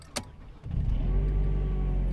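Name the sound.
Mercedes W203 C-Class car engine starting after alternator replacement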